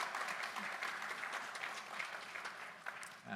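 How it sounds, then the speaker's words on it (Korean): A church congregation claps in blessing after a sermon, a soft, even patter of many hands, fairly distant and unbroken, then fading near the end. "우리 축복의 박수를 한번 드리겠습니다"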